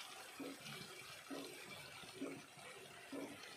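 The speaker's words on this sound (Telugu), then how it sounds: "ఇప్పుడు ఇందులో కొంచెం వాటర్" Water is poured into a cooking pot, a quiet, continuous splashing and gurgling that swells in soft, regular pulses roughly once a second.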